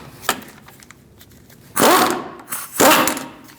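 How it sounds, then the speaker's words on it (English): Socket wrench with an 18mm socket loosening a nut on the front wheel hub of a 2002-2006 Toyota Camry, heard as a brief click and then two loud, rasping bursts of ratcheting or impact noise close by. "Now we're going to take off this nut with an 18mm socket."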